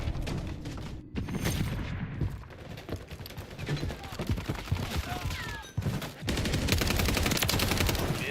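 Dense gunfire in XDefiant multiplayer, with overlapping shots and bursts blending into a busy, loud wash of battle noise that never lets up across the stretch.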